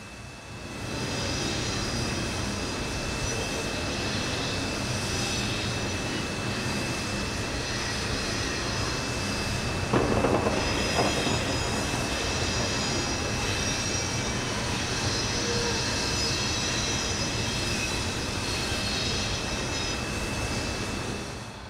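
P&B Pacific steam locomotive No. 1086 eases slowly across massive elevated trackage through the center of town, a steady, broad rumble heard from a high balcony above Main Street, holding evenly throughout with a brief swell midway.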